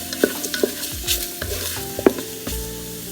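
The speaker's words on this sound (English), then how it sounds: "Mix everything together. Make sure it's cooking good." Shrimp fried rice is stirred and scraped around a sizzling Ninja Foodi pot, with steady frying hiss and sporadic utensil clinks.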